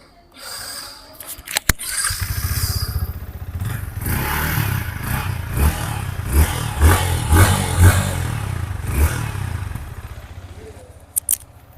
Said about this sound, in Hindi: सो कुछ इस तरह का एग्जॉस्ट नोट जो है वो मिल जाता है विद दिस Yamaha MT15